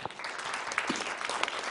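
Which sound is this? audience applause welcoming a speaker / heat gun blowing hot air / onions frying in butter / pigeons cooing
audience applause welcoming a speaker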